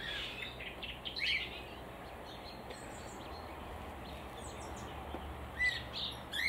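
Quail calling outdoors, a few faint, brief chirping calls scattered over a steady background hiss, with no talking.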